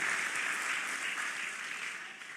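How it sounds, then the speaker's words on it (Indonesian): A church congregation at GBI Lippo Cikarang claps for God during a sermon, a fast, dense wash of applause that holds steady and slowly fades toward the end. "Tepuk tangan paling keras buat Tuhan."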